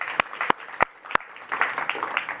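Audience at a New York City affordable housing and economic mobility event applauding the CUNY Chancellor; a few sharp, loud claps stand out close by over lighter scattered clapping and faint voices.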